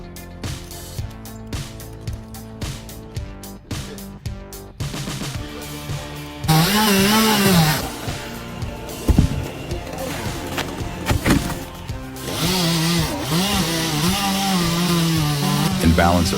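A chainsaw cuts into a tree trunk, its engine whining loudly with a wavering pitch in the second half, after a stretch of other rhythmic, tonal sound.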